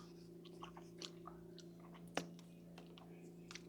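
Soft crunches and bites from chewing a meringue cookie while tasting, faint, close and irregular, over a low steady hum.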